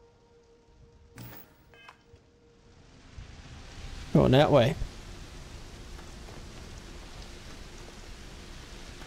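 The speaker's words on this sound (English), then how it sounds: "Got a little bit of rain." Steady rainfall on a lush, Earth-like planet in the video game Starfield makes a soft, continuous hiss throughout, with a brief line of speech partway through.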